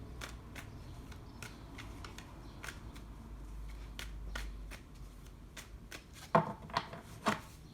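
Tarot cards are shuffled by hand in quick, crisp riffling bursts, a close and fairly quiet series of papery flicks ending in a few sharper taps as the deck is squared.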